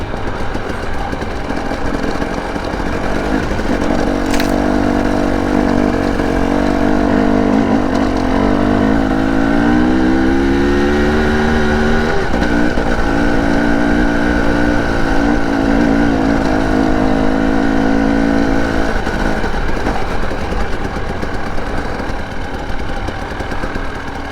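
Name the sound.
Husqvarna TE 300i two-stroke dirt bike engine revving while riding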